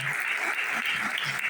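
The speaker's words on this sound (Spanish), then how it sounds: "Vamos a darle un fuerte aplauso a todos los que reciben." Steady, even applause from a church congregation during a Spanish-language service fills the whole moment, with faint voices underneath.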